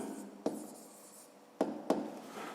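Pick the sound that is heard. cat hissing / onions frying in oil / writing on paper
writing on paper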